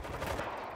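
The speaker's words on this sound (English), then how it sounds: "Auto turret running." An auto turret in World War Z: Aftermath fires a brief, dense burst of rapid shots, close and steady, in a game setting without speech.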